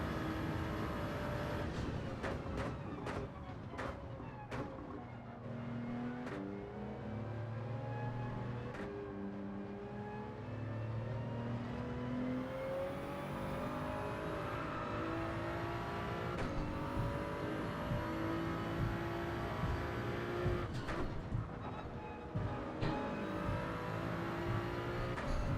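Race cars in Gran Turismo 7 during a Tokyo daily online race, the player's car droning steadily with rising and falling engine pitch as it shifts, while other cars rush overhead with brief passing roars.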